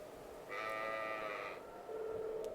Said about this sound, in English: Found all the lost sheep.